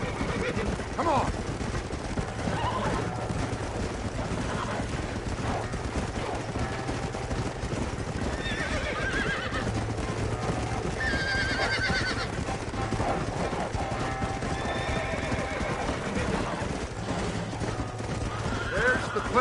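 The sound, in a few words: horses neighing and hooves clip-clopping, Red Dead Redemption video game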